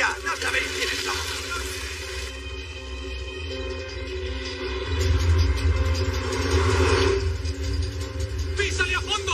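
Getaway car in a Spanish-language police action film, engine droning then surging louder into a revving acceleration midway, close and continuous with clattering bursts and other sounds mixed in.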